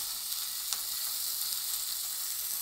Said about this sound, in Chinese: 咱就直接多煎点